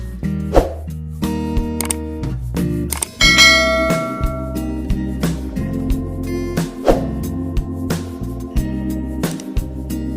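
A bell-like chime jingle with repeated bright strikes ringing over sustained tones, fairly loud and continuous for about ten seconds, with no talking.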